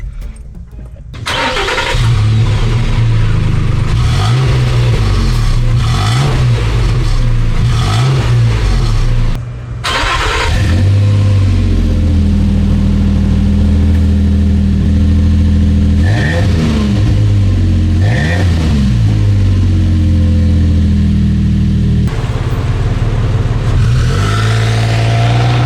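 A Nissan Xterra with a freshly welded Flowmaster muffler idles with a deep, loud exhaust note, then revs repeatedly in rising and falling bursts, briefly dropping near ten seconds before picking up again.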